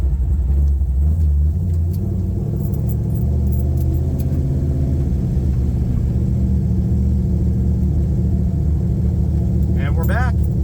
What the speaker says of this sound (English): Exhaust isn't terribly loud in here yet.